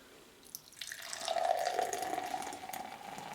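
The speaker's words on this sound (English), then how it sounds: "get a little pour here." Drop Kick Ale from Weston Brewing Company poured into a glass: a short clink, then a rising, steady liquid gush and fizz close by that tapers slightly as the glass fills.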